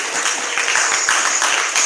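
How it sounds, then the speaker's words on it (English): Dense, steady clapping from a town hall crowd in Harlem, sustained throughout without a break. "Give Voza a round of applause, y'all."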